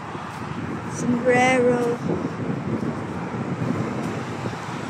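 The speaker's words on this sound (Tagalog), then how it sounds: "Lakas ng hangin." Strong wind gusting outdoors on a street in Al Nahda, Dubai, a steady broadband rush buffeting the microphone with faint traffic underneath, while a voice speaks briefly early on.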